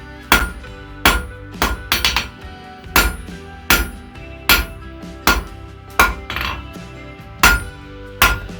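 A hammer strikes a small piece of hot metal on an anvil while forging the point of a nail, producing about a dozen sharp, ringing clanks in an uneven rhythm, some landing in quick pairs, close and loud.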